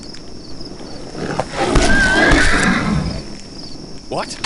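A horse neighs in a video game, a loud drawn-out whinny rising and wavering over a second or so amid rustling background ambience, with a fainter cry near the end.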